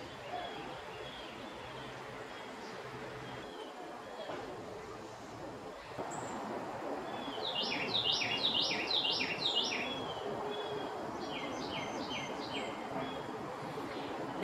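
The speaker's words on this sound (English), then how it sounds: "that bird call? Sounds like they're saying Jimmy Stewart, doesn't it?" A bird calls in a quick series of sharp chirping notes at middle distance, repeated twice over a quiet outdoor background with faint hum.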